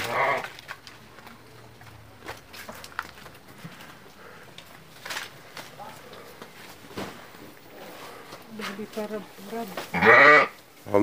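Goats at feeding time bleat in a rural Indonesian setting, with loud nearby cries at the start and end, mixed with people talking and rustling movement.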